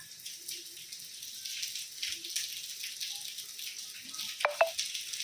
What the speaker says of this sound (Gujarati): વરસાદ ચાલુ છે, આમ દેખાય વરસાદ